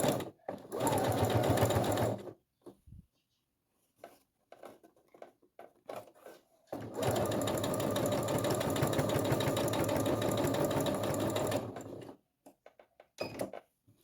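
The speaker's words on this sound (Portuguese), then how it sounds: "A agulha, ela precisa seguir aqui a costura aqui, rente com o tecido" A sewing machine stitches close along the edge of white fabric for a stroller diaper border, running in two long steady loud bursts with short talk and handling noises in the pause between.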